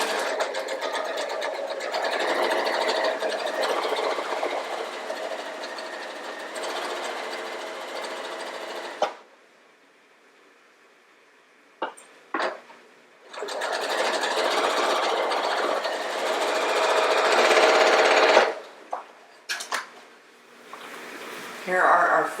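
A sewing machine stitches quilt fabric pieces together in long, steady runs of close, loud whirring, stopping for several seconds midway with a few short spurts before another sustained run and a final brief burst.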